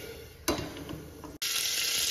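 Potato and cauliflower fry with cumin seeds in a pan, a close sizzling hiss broken by a brief scrape and a short cut, then resuming louder and steady.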